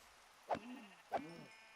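Cow in the game Minecraft being hit, giving two short hurt moos about half a second apart, brief and low-pitched over quiet background.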